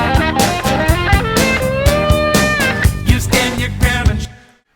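A recorded guitar riff played backwards, its notes swelling and sucking in against a pulsing low rhythm, loud and continuous before fading out at the end. No speech.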